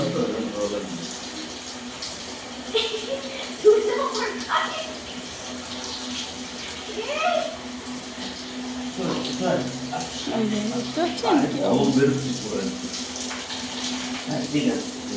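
Water runs steadily from a tap in a home bathroom while a dog is bathed, a continuous hiss under frequent talk, with brief splashes and handling noises.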